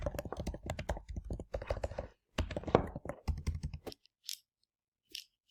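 Someone types a comment on a computer keyboard, with quick bursts of close key clicks separated by short pauses and ending in a few isolated taps.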